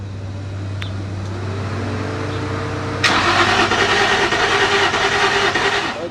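A car with a crank-no-start fault cranks over. A low steady hum gives way midway to a loud, rough broadband roar that holds steady to the end.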